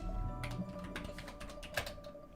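Someone types on a computer keyboard in quick, soft key clicks with a couple of sharper taps. The sound is faint and close, with no talk over it.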